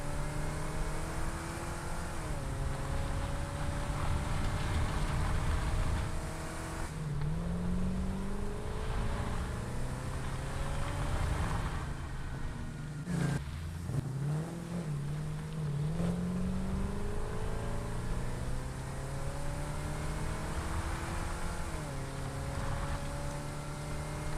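Engine of a fast vehicle in the factory-building game Satisfactory drives steadily for the whole stretch, a continuous motor drone with rising and falling pitch sweeps as it accelerates and shifts, loud and close throughout.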